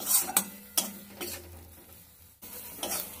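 A spoon scrapes and stirs bottle gourd leaves frying in a pan over low heat, giving a few distinct strokes with faint sizzling between them and no talk.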